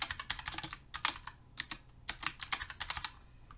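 Rapid bursts of keystrokes on a computer keyboard as card name and number details are typed in, irregular clusters of clicks close by with brief pauses, no talk.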